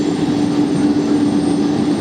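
At JFK airport a parked airliner's auxiliary power unit drones on steadily, a loud continuous turbine hum with a faint sustained tone inside it, unbroken and without voices.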